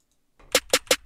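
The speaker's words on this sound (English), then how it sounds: "the snare roll should sound something like this." Trap beat snare roll: four sharp, bright snare hits in quick even succession after a short silence, loud and close with nothing else playing.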